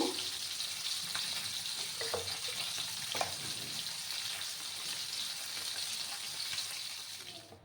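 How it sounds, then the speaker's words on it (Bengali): Rohu fish frying in hot oil for mustard rui: a steady, fairly faint sizzle with a few brief clicks, fading away at the end. "আর একটু সময় আমি ভাজবো, তারপর আমি মাছগুলো নামিয়ে নেব।"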